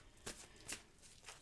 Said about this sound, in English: I am going to shuffle and pick you an Angel Oracle card.